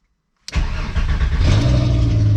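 After a brief silence, a VR5-swapped Volkswagen Golf 3 engine cranks and catches, then settles into a loud, steady rumbling idle up close.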